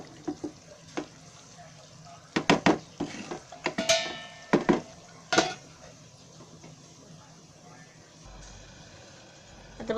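Shahi mushroom masala stirred in a cooking pan, with clustered sharp clanks and scrapes of a spoon against metal through the first half, followed by quieter stretches with faint pan noise and no speech.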